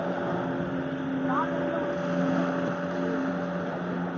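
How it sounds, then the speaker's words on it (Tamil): A small boat carrying a young boy out on the sea off Periyathalai beach, its motor droning steadily at a distance under strong wind and surf, with a faint voice speaking briefly. "ஒரு சின்ன பையன் சின்ன போட்டில் எந்த அளவுக்கு போயிட்டுருக்கான் பாருங்க கடலில்."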